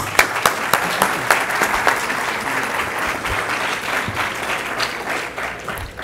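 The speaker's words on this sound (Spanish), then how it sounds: "para quien pide unas fuertes palmas también" Loud applause from an audience at a technology talk, a dense burst of many hands clapping with some sharper claps near the start, continuing strongly for six seconds without talk over it.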